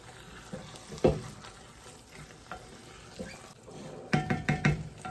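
Bolognese sauce being stirred in a pot for a Nigerian-style recipe, a soft sizzle running throughout with scraping spoon strokes, one sharp knock near the start and a quick cluster of louder stirring clatters toward the end.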